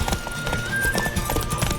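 Horse hooves galloping during a race in the video game The Witcher 3, a fast steady clip-clop rhythm at close range mixed with game sound effects.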